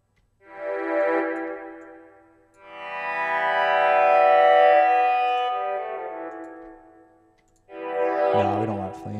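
Synth string pad from the Harmless synth with a classic flanger and unison, sustained swelling chords that fade in and out with a sweeping comb-filter shimmer, followed by a brighter attack at the end, alone.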